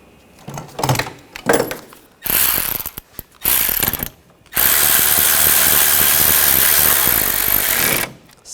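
A ratchet wrench tightens a bolt on the relay box of a 2013-2022 Buick Encore during a cooling fan assembly replacement, giving short clicking bursts followed by a long, loud, steady run of ratcheting clicks close to the mic.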